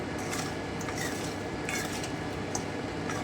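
Winter melon morobba with cinnamon stirred in a pot, a low bubbling simmer under faint scraping and clinks of a utensil against the pot, quiet and continuous, with no talking.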